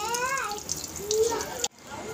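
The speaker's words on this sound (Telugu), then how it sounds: "చేపలను అయితే వాటర్లో శుభ్రంగా కడుక్కోవాలి" Fish being rinsed clean in water while preparing a Godavari-style fish curry; splashy running-water and sink noise runs throughout under a speaking voice, then cuts off abruptly near the end.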